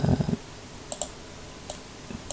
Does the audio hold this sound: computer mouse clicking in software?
yes